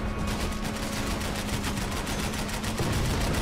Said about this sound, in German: Oh Mann, mir gefällt die Explosion.